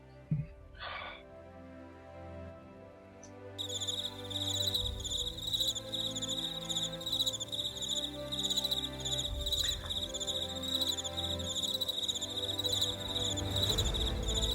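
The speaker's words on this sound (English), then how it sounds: "Crickets." Crickets chirp in a steady, rapid pulsing trill that begins a few seconds in and continues unbroken to the end, moderately loud over a faint low background, with a couple of soft knocks and no speech.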